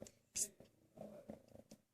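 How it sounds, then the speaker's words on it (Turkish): A playful pet cat purrs softly and close by in short, uneven bursts, with faint voices and small rustles around it. "Seslerine bakın. Bayağı bir gırlıyor yani."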